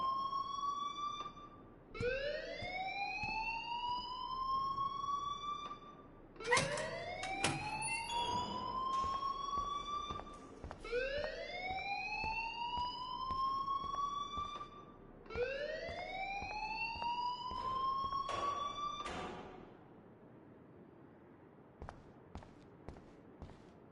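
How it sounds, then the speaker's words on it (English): Rising electronic alarm wails repeat in steady cycles in the video game Life is Strange, loud and continuous, with clicks and bumps scattered beneath the sweeps until they stop near the end. "please turn off that alarm since that's your job"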